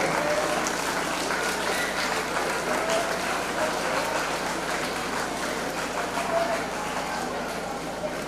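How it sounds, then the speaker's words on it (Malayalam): An audience at a school welcoming ceremony for new students claps continuously and fairly close. The dense, even applause holds throughout with a faint murmur of voices mixed in. "നിറഞ്ഞ കൈയടിയോടെ ഇവരെ ഈ സ്കൂളിലേക്ക് നമ്മൾ സ്വാഗതം"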